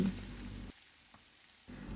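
Dried shrimp sizzles steadily as it is stir-fried in a hot pan, close up, with the crackle briefly dropping out in the middle before returning.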